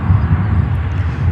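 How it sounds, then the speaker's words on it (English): A Spirit Airlines Airbus A320 jet at O'Hare airport gives a steady, loud engine roar that holds evenly throughout without a break, with no voices over it. "We see another yellow boat, Spirit, with a 320."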